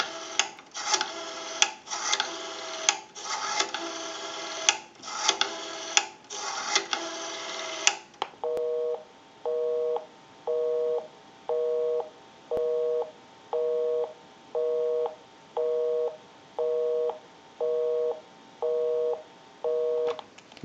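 A rough rhythmic rubbing noise is followed by a telephone busy signal from an Automatic Electric three-slot payphone: short beeps repeating at an even pace, clear and close.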